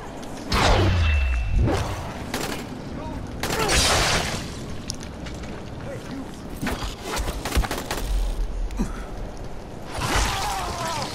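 Enemy gunfire in the zombie game Dying Light comes as bursts of sharp cracks mixed with heavy thuds, booms and whooshes, loud and close, clustering into a rapid volley near the end while a player talks over the action.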